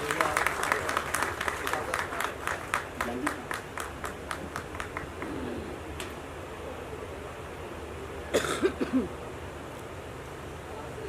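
An audience applauds to welcome a guest onto the stage at a song launch event, opening with brisk, rhythmic clapping that thins out and fades over several seconds, with voices and crowd murmur beneath.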